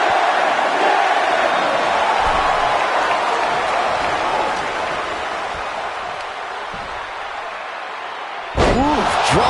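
Wrestler slammed face-first onto the mat in WWE 2K25, a heavy game impact set against a steady roaring arena crowd, with commentary voices and a brief burst of crowd reaction near the end.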